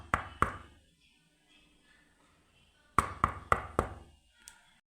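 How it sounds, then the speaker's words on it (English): Faint hollow knocking from behind a living room wall: two knocks, a pause, then four evenly spaced knocks, slow and deliberate, muffled and alone without talk. "she heard it, a faint knocking sound coming from behind the living room wall."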